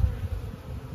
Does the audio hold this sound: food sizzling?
no